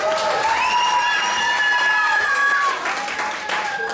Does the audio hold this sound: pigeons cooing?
no